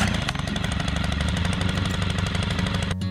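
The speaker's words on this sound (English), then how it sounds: "Dig alongside the old ones with the steel post hole auger." A steel post hole auger bores into the ground for a split rail fence, its engine roaring loudly and steadily with a rapid hammering vibration up close, then cutting off abruptly at the end.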